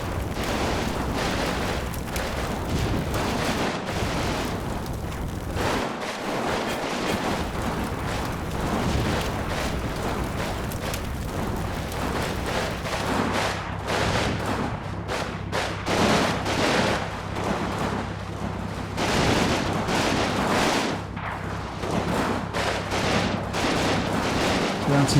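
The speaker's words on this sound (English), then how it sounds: "Still quite a lot of fire going on across the square." Battle sounds from the WWII strategy game Combat Mission: Stalingrad fill a city square, with dense, continuous distant gunfire, crackling volleys and rumbling blasts blending into a steady din, with no talking.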